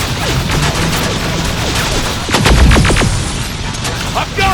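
Suppressive gunfire rattles in a Terminator: Resistance firefight, with sharp repeated shots and crashes over a continuous noisy backdrop. A voice shouts partway through.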